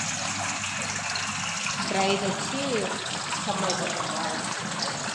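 Water trickles steadily over the cooling pads of a Crompton Ozone 95 L desert air cooler, making a soft continuous wash beneath someone speaking.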